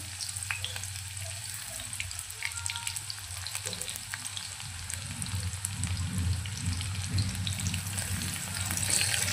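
Cumin seeds and crushed garlic cloves fry in hot oil in a kadai for dal tadka, a close, steady sizzle with crackling pops that grows slightly louder toward the end.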